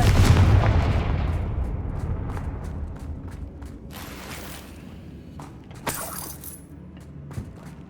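A loud Confringo blasting-spell explosion in Hogwarts Legacy, set at a damaged bridge, starts with a heavy boom, then rumbles and fades into debris and a few scattered later pops.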